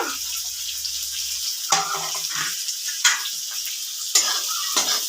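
Onion frying in a pan while rava upma is cooked, with a close, steady hiss of sizzling oil and a few sharper bursts about every second or so as the pan is stirred.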